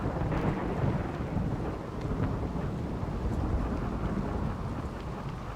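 A rainy thunderstorm in the game RimWorld: low rolling thunder rumbles under a steady wash of rain, moderately faint and continuous, with no voices.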